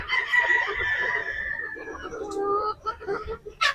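Gamefowl roosters of the Sweater and Boston Black breeds crow nearby, one long drawn-out call followed by clucks and a second crow starting at the end, with a voice in the background.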